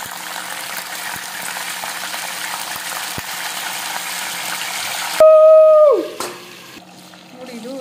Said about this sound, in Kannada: ಇದು ಬದನೆಕಾಯಿ ಹಾಕ್ಕೊತಾ ಇದ್ದೀನಿ ನಾನು ಇವಾಗ.